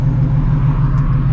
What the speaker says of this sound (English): we are driving the ESS G3R Shelby GT350